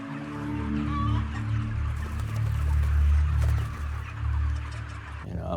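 A cage-free, humanely raised hen clucking on a poultry farm, with repeated close, throaty clucks over a steady low hum and no speech.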